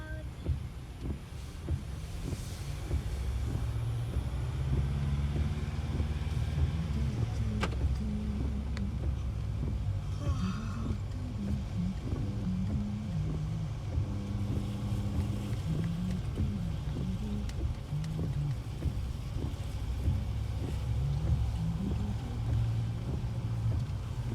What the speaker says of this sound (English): Let's see the traffic in the Philippines in the night.